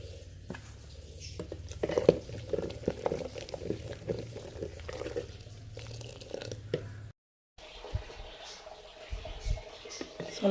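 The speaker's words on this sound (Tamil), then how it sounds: "சோறுங்க தண்ணி கொதிச்சிட்ருக்கு." Water boiling with sorghum rice in a pot, a low bubbling patter with scattered stirring knocks, a brief dropout midway, then continued simmering.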